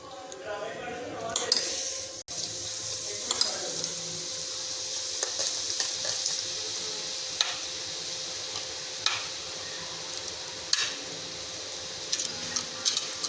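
A second batch of bhallay drops into hot oil and fries with a steady, faint sizzle, broken by occasional clinks of a utensil and soft splashes.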